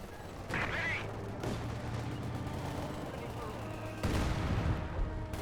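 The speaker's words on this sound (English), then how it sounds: "Explosion over here." Artillery shells explode in the World War II strategy game Company of Heroes 2, with heavy booming blasts and a rumble of gunfire. A first burst is followed by a second, louder one a few seconds later.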